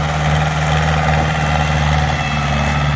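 A Ford New Holland 6610 farm tractor engine runs close by in a loud, steady drone with a constant low throbbing hum and no voices.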